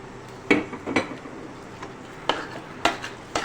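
Spoon knocking and scraping against a pot while chana chaat is mixed with tomato, green chilli and garlic paste, a few sharp clinks spread irregularly over quiet stirring.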